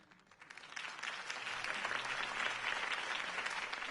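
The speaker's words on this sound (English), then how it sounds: "could have heard that applause" A crowd in the Batman Telltale video game breaks into applause after a campaign speech. The clapping starts softly, quickly builds to a dense, steady ovation and holds at full strength.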